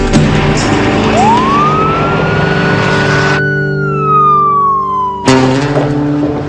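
An ambulance siren wails up and slowly falls away over a rumbling engine, cut off suddenly before the noise returns.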